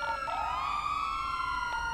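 Ambulance siren in a police roleplay video game, a loud wailing tone sweeping up then holding high and sliding down, with engine noise underneath and no voices.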